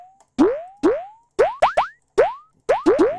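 A cartoonish springy boing jump effect from a platformer game repeats about nine times in uneven bursts, each a rising sweep with a quick attack, loud and clean with no talk.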